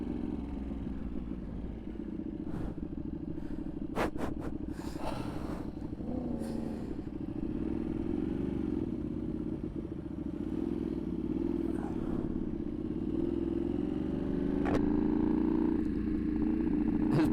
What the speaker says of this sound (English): This guy's still trying to back his fucking bike up.